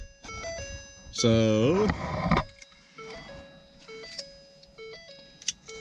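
A car's ignition warning chime dings in a steady, repeating high tone on a salvage rebuild car, running under a man's speech and other cabin noises.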